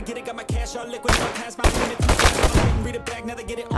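Repeated gunfire in the video game Bullet Rain, with loud bursts of shots in irregular clusters and a few sharp single reports across the stretch.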